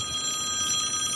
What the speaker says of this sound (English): Wait. Is this Sid's phone?